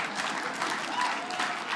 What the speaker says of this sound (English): Applause break.